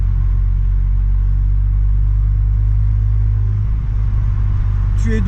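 A stage 2 tuned Volkswagen Golf 6 R engine idles with a heavy, continuous low rumble close by, then near the end a brief sharp burst from the exhaust cuts through.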